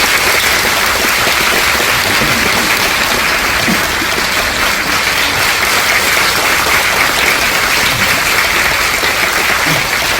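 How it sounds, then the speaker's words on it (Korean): Lecture audience welcoming a poet with loud, sustained applause, a dense, even wash of many hands clapping that fills the whole stretch without pause. "박수 한번 부탁드립니다."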